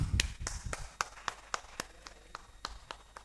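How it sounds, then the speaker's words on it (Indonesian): A small group claps for a student team in a classroom: brief irregular hand claps, about a dozen sharp slaps over a few seconds, moderately close, thinning out as it goes. "Beri aplaus dulu kepada kelompok satu."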